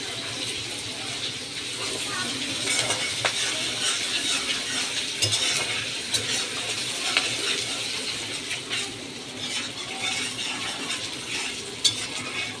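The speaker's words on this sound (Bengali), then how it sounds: "পেঁয়াজটা একটু ভেজে নেব" Onions cook in a pan while bitter gourd bhaji is being prepared. Gentle, watery frying runs throughout with scattered faint clinks and stirring scrapes, moderately close and fairly quiet, with no clear talking.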